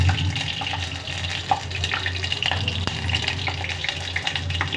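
Green chillies, dried red chillies and cumin seeds fry in hot oil, giving a steady, fairly loud sizzle with a constant hiss and occasional small pops throughout, without talk.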